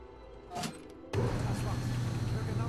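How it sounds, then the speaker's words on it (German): In the Fallout 4 video game, a water pump switched on kicks in abruptly after a short quiet moment. It settles into a loud, steady mechanical rumble and hum that keeps running. "Drück den Schalter an der Pumpe."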